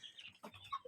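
A few white Plymouth Rock chickens give short, faint clucks in a quick burst under a second long, with no voices.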